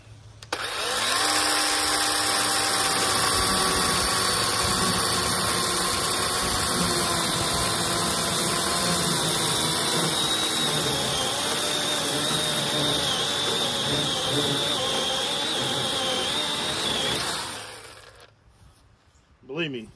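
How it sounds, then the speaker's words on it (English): A chainsaw roars at full throttle for about seventeen seconds of sustained cutting, loud and close, then cuts off abruptly. "let's use a chainsaw"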